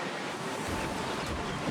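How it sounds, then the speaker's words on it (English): Strong, brutal wind on the Kapalua Bay golf course in Hawaii, a steady loud roar buffeting the microphone throughout with no talking. "This wind is absolutely brutal out here."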